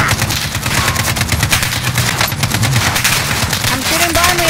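Rapid automatic gunfire rattles through a Warzone battle royale match, sustained bursts of close, loud shots repeating steadily for several seconds, with players talking excitedly over the shooting.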